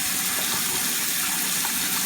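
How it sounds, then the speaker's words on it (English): Sink faucet running during handwashing at a home child care setting, a steady, close splashing gush of water that stays even from start to finish with no one speaking. "you use that to touch the faucet to shut it off"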